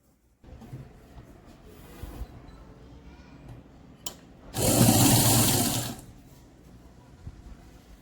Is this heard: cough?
no